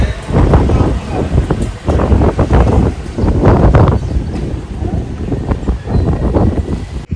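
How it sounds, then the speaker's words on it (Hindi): Strong gusting wind buffets the microphone outdoors, loud and continuous with rumbling low-end bursts, and a voice speaks over it. "बाहर तो और ज़्यादा हवा चल रहा है"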